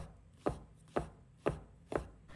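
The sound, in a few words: knife chopping shiitake mushrooms finely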